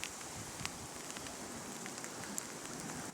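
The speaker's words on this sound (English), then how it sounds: "It's actually fucking hailing." Hail falls near cliffs at Folkestone, a dense, steady patter of small hard ticks on surfaces all around, with a few sharper hits standing out and no voices.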